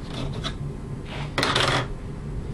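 A few dry, rasping snips of scissors cutting a piece of cord, with one longer, louder cut in the middle, close by and without talk.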